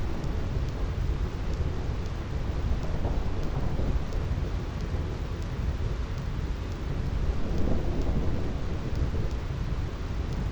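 Thunderstorm in the video game Final Fantasy X, a steady roar of heavy rain with rumbling thunder swelling in long low surges, dense and continuous throughout with no voices.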